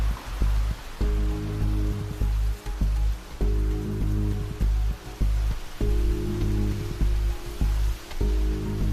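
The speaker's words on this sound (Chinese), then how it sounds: "淋湿了没有？ 这么大雨" Heavy typhoon rain pours down in a dense, steady hiss, with music carrying on beneath it throughout.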